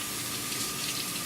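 A new kitchen faucet with a fault running water into a sink, a steady broadband hiss and rush, close and constant with no speech.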